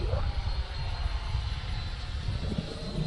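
An FW Avanti S RC model jet passes overhead with a continuous broadband rushing roar, loud and steady throughout.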